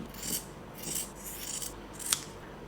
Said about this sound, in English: Now let us cut the fabric according to the sewing